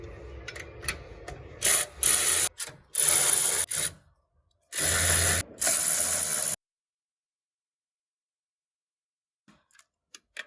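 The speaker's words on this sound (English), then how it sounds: "we'll give them a tighten" Ratcheting tool tightening the number 19 nuts over lock washers on a Hamilton 212 jet pump during an impeller change, loud close bursts of rapid ratchet clicking in several runs, then silence with a few faint ticks.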